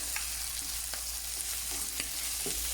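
Fava beans and spinach sauté in a pan with a steady, close broadband sizzle, broken by a few light scraping stirs.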